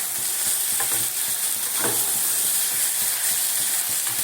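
Kulcha filling frying in a pan as it is stirred, a constant bright sizzle broken by a few scraping strokes of the spoon, close and alone.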